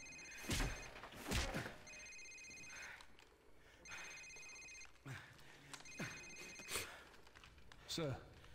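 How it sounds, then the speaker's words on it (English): A cell phone rings in the video game Call of Duty 4: Modern Warfare, a repeating electronic ring in several bursts, mixed with thuds and game noise while people talk. "Sir, it's his cell phone."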